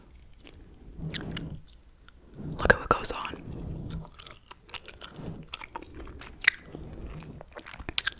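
Someone chews Hubba Bubba Bubble Tape gum close to the mic, with soft wet smacks and squishy crunches in uneven bursts between stretches of whispered talk.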